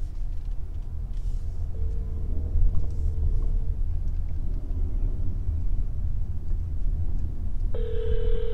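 Telephone ringing during a call placed from a moving car, the ringback tone sounding in two spaced bursts over steady road rumble.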